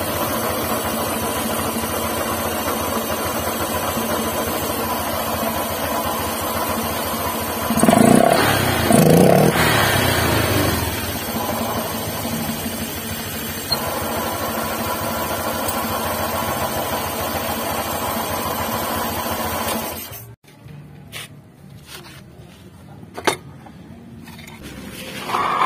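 A running motorcycle has a harsh growling noise from the rear wheel area. A rough, steady mechanical drone swells into a louder grinding burst midway, then cuts off abruptly near the end, leaving faint knocks.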